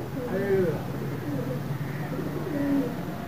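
Pigeons at a loft give several soft, rolling coos close by, repeating in short bursts against a faint background murmur.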